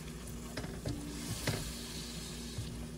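Shrimp miki noodle broth bubbling and simmering in a pot on the stove, a steady low seething sizzle with a few soft knocks, close and moderately quiet with no talking.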